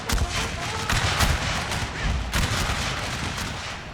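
Civil War musket volleys and artillery in a massive Total War Shogun 2 battle: loud, dense crackling rifle fire with heavy booming blasts, including two strong surges, continuous over a few seconds.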